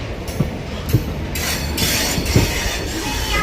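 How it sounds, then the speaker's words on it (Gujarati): A passenger train comes into a station on a long trip toward Rajkot, a steady rolling rumble with a few sharp metallic clanks and rising wheel noise, no talk. "આ ટ્રેન આવી જાય આ ટ્રેન આવી જાય"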